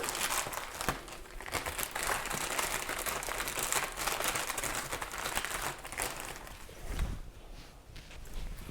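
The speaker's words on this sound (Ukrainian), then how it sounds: "Відкриваю пакет." Plastic bag being opened during air layering of a three-metre Ficus benjamina for bonsai, giving steady close crinkling and rustling for several seconds with a few louder crackles.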